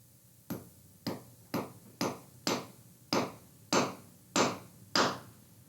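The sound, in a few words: hammering a nail into the floor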